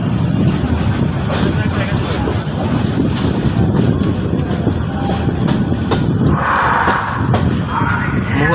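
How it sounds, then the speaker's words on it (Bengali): The Mohua Commuter train rumbles loudly into Dhaka Airport railway station, with continuous wheel and carriage noise, clicking rails and wind buffeting close to the microphone. "নয়টা সাত মিনিটে ঢাকা বিমানবন্দর রেলওয়ে স্টেশনে প্রবেশ করলো মহুয়া কমিউটার"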